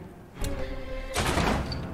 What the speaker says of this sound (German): Es kommt eine kleine Action-Sequenz auf uns zu und er schießt viel zu oft